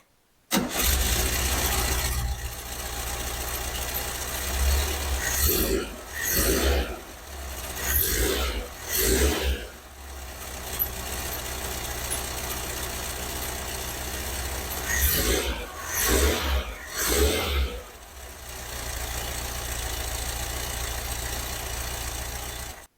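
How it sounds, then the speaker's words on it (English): Volkswagen Beetle with a quiet pack exhaust cranks and starts, then idles steadily for around twenty seconds with several throttle blips, close and fairly loud. "we can actually start it so you can get an idea what it sounds like"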